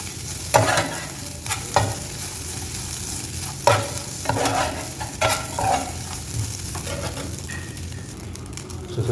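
Chicken pieces sizzling in a pan of hot oil, stirred with a spatula, giving a steady frying hiss broken by repeated scraping and clinking strokes, close up and with no talk.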